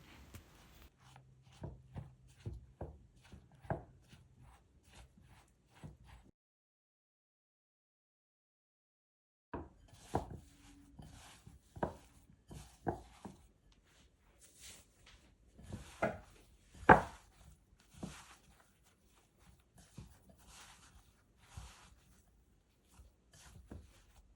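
Almond croissant dough made from two ingredients, mixed first with a spoon and then by hand, gives soft scraping and rubbing taps in uneven bursts, close and fairly quiet, with a silent gap partway through.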